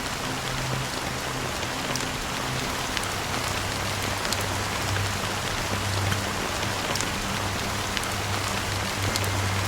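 A fine, steady drizzle of black rain falls in the game Honkai: Star Rail, an even hiss of drops pattering on surfaces for the whole stretch, with no voices over it.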